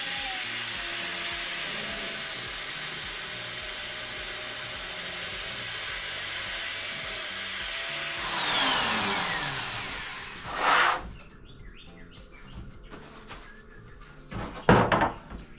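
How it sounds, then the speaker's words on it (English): A drill press boring with a Forstner bit gives a loud, steady machine whine that drones for several seconds, then winds down. Short knocks and clatters follow in the quieter stretch. "and then drill it out"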